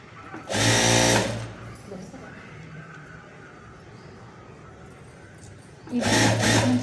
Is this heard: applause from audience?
no